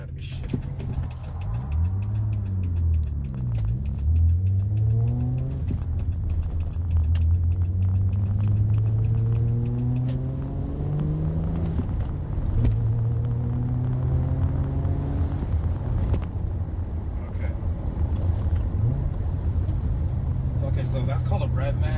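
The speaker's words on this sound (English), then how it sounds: "so that's called a rev match" A manual-transmission Toyota engine revs up and down in rising and falling sweeps as the driver rev-matches downshifts on a road, heard from inside the car with someone talking over it.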